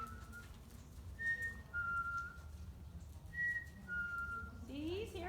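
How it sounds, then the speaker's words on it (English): A person whistles short, clear tones to settle a horse, four brief whistles in two pairs over low background rumble, followed by a rising, squeaky sound at the end. "I do use whistling to calm them down"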